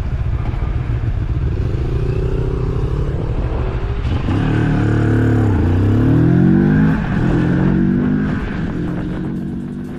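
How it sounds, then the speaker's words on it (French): A Moto Morini Seiemmezzo with a small inline twin-cylinder engine revs loudly and close up, its raspy exhaust climbing and falling in several sweeping blips after a steady idle, with no voices. "L'échappement produit quant à lui un feulement discret et rauque, typique d'un petit bicylindre en ligne."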